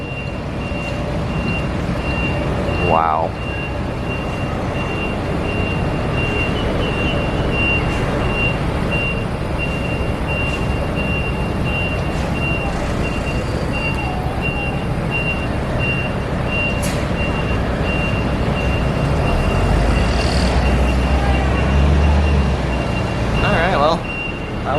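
A city bus backs out into an open intersection with no spotter, its reversing beeper sounding among heavy traffic rumble and engine noise, with a brief spoken exclamation nearby.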